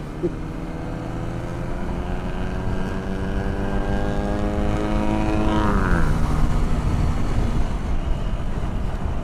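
A heavy engine drones loudly and steadily, its pitch sliding down partway through as a large vehicle passes close by.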